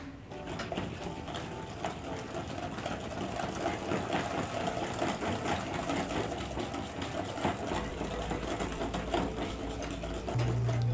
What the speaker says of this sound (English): continue whisking your butter